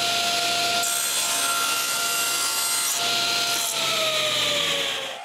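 A power saw cuts a new wooden base square on a coat-rack build, giving a steady high-pitched whine with rising and falling tone and no voices, loud and continuous throughout.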